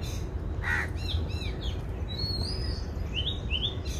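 Outdoor birds calling: a rising whistled call repeated several times, mixed with harsher caw-like notes and chirps, moderately distant over a steady background hum, with no one speaking.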